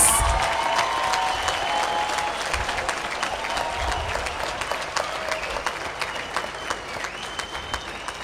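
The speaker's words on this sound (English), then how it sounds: "Can we give them a round of applause, please?" Crowd at a university welcome day for first-year students claps in loud, sustained applause that gradually thins, leaving scattered sharp individual claps toward the end.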